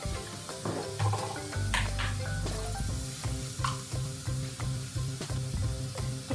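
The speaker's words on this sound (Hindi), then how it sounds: "तो प्याज जो है हमारी ब्राउन होने लगी है" Onions browning in a pan for egg fried rice, a continuous sizzle with stirring scrapes and light utensil knocks, close and fairly loud, without speech.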